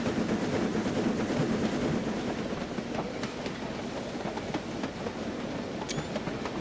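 A J50 locomotive hauling its train across a bridge, a steady, close rumble with rhythmic clickety-clack of wheels over rail joints and a brief high squeal near the end, with no talk.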